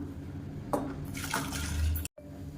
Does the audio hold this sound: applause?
no